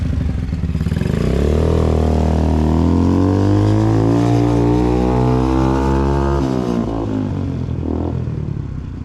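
A 2022 Yamasaki YM50 motorcycle fitted with a swapped-in 125cc engine revs loud and close, its engine note climbing steadily in pitch and then dropping off as the rider eases off.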